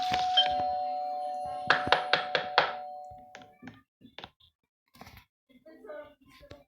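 A doorbell rings out with a quick series of five chimes, followed by faint knocks and shuffling in a quiet room.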